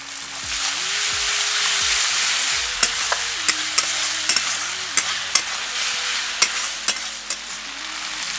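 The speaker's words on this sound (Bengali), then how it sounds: "পেস্ট করা টমেটোটা এবার দিয়ে দেব।" Tomato paste hitting hot spiced oil for aloo do pyaza, a loud sizzle that settles into steady frying, with a spatula repeatedly tapping and scraping the pan.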